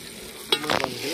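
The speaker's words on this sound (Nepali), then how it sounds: "टमाटर भुट्दै" Tomatoes frying in a pan give a soft background sizzle broken by a brief burst of scraping as they are stirred.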